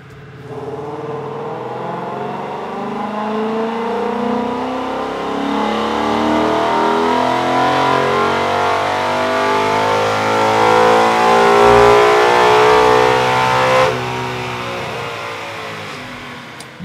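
A Ford Mustang Gen 1 Coyote V8 with a Cobrajet intake manifold and VMP twin 69 mm throttle body revs steadily upward toward 7,000 RPM, loud and sustained, then drops off abruptly near the end.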